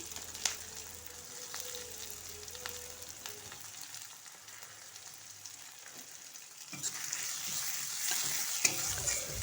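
Chopped onion and garlic frying in a pan while eggs with winter peas are cooked, a steady sizzle with stirring scrapes, growing louder and brighter toward the end, no talk.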